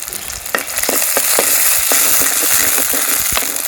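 Shallots sizzle and crackle in hot oil, with sharp pops and spatters over a continuous frying hiss.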